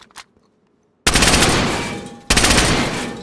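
Two loud automatic gunfire bursts from the survival game DayZ crack out close by after a near-silent start, each a rapid continuous volley with the second one following right behind the first.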